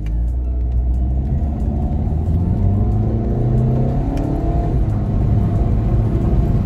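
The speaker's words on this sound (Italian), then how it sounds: "Proviamola subito partendo da fermi e vediamo come va il cambio delle marce e l'accelerazione del" Volkswagen Golf 2.0 TDI diesel hatchback with DSG gearbox pulling away from a standstill and shifting up, a steady close engine rumble and road drone that builds smoothly for several seconds without pause.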